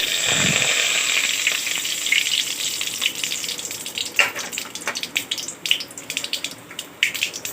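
Mustard seeds and urad dal sizzling and crackling in hot coconut oil, a loud hiss at first that breaks into sharp irregular pops and spatters, close up with no talk.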